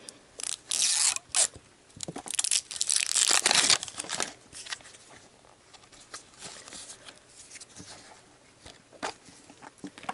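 Crinkly plastic rustling and tearing as a small sand packet from an L.O.L. Surprise Series 3 Lil Sister and Pets toy is opened, loud bursts in the first few seconds then quieter rubbing and crackles.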